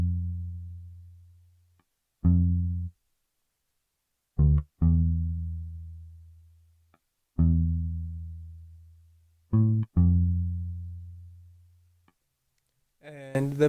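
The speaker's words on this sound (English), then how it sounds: "I then added a bass from Moto Bass, and the preset is 70s P bass, and it sounds like this." Moto Bass 70s P bass preset playing a basic bass line that follows the chord progression of a vintage-style sample, round low notes with pauses between, short and long tones decaying, close and fairly quiet.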